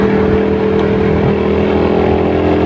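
Suzuki Satria FU 150cc DOHC motorcycle engine running hard, a loud, close, steady drone with strong even tones that hold throughout without pause.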